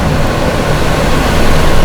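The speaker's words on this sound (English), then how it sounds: "There's the bus. Sorry for the noise." A bus passing on a college campus at night, a loud, dense engine roar that fills the whole stretch and grows slightly heavier toward the end.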